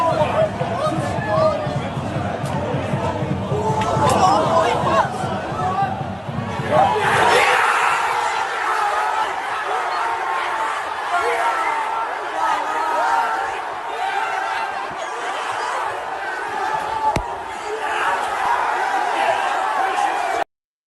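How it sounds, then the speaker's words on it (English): Spennymoor football supporters erupting after a 95th-minute equaliser at a non-league match, a loud roaring crowd with chanting and shouting that settles into a dense, sustained babble of excited fans. "So that was the Spennymoor fans celebrating their 95th minute equaliser"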